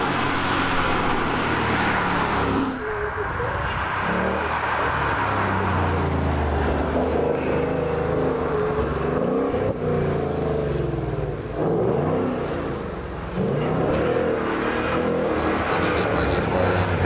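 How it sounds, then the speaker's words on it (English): A newer-model Ford Mustang climbs a hillclimb course at the Legend of the Lakes event. A sustained engine roar rises and falls as it drives, with a commentator talking over it. "As the Mustang now is making its way to the top."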